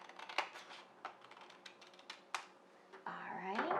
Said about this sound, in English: I'm going to take a pair of scissors and I'm going to cut right